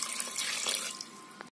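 Water gushes steadily into a pressure cooker over raw mutton with turmeric and salt, a close, continuous splashing rush that tapers off near the end, with no talking.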